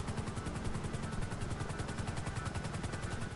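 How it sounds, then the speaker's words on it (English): A helicopter in Grand Theft Auto keeps up a steady rhythmic rotor chop, loud and continuous, with no speech. "Land the chopper."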